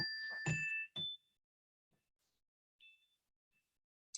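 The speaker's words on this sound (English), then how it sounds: "when meditation is over, you will hear some chimes. This is an example." Meditation chimes ring out in a quiet room: a few bright, clear strikes close together, then a couple of softer, sparser tones fading into silence.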